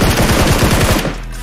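Rapid gunfire in PUBG Mobile during a sniping exchange, a dense run of sharp shots packed close together that stops abruptly near the end, leaving a low rumble.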